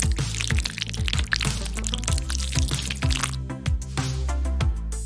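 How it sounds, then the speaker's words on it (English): Cream pours over smashed Oreo cookies with a wet, gurgling flow and scattered drips, close and fairly loud over a rhythmic background. "No problem, just pour in some cream."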